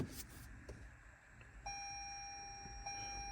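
Turning on the ignition of a 2020 Toyota Camry brings a steady electronic chime of clear, sustained tones that starts after a brief pause, with faint background noise before it.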